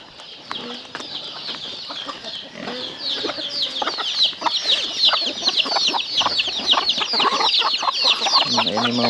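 Free-range chickens on a farm cluck and chatter steadily throughout, a dense layer of overlapping bird calls close by, with faint background sounds and a low thud near the end.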